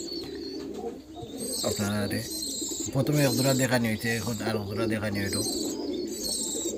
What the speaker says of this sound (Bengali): এগুলো হলো গ্রিবাস, গ্রিবাস দেশি কবুতর